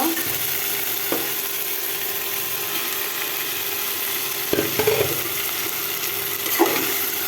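Broccoli hits a pan of frying ginger-cumin paste with chilli powder, giving a steady close sizzle with a few sharp clatters and stirring scrapes.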